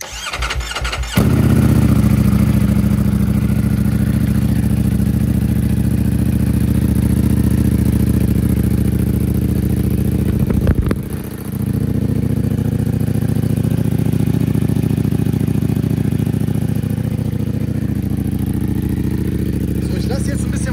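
A 2020 Ducati Panigale V4 S, a customer-built custom, fires up and settles into a loud, steady idle close by, its deep throb holding evenly with a brief dip near the end.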